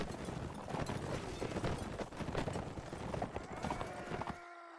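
Horse hooves clip-clop rapidly and continuously in the video game Mount & Blade Warband, a dense galloping patter at close range, with a sustained tone rising at the end.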